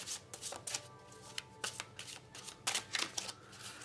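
A deck of oracle cards is shuffled by hand during a reading, with soft riffling flutters and taps repeating in quick irregular bursts, close and quiet.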